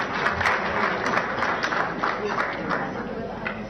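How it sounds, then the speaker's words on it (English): Audience applause for a speaker at a panel discussion, a steady broadband patter of many hands clapping at moderate volume throughout, with a crowd murmur underneath. "Can we give him a round of applause?"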